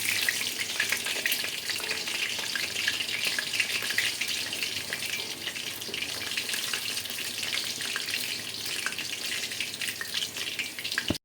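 Pieces of chicken 65 fry in hot oil in a wok, giving a steady, loud, close sizzle that runs unbroken for the whole stretch with no voices.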